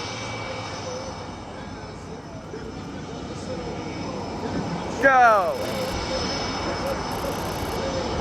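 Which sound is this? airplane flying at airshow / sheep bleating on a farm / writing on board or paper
airplane flying at airshow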